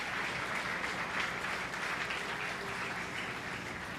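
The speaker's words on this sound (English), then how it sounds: "let's go ahead and give all of our steer exhibitors a really nice round of applause" Sustained round of applause from the crowd at the 2022 Hamilton County 4-H beef show, honouring the steer exhibitors; steady, dense clapping throughout with no talk over it.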